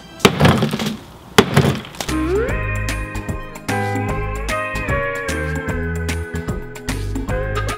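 Pizza frozen solid in liquid nitrogen smashed twice in quick succession with sharp, glassy cracking impacts, followed by loud sustained tonal music.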